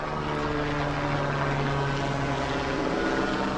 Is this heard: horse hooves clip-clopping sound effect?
no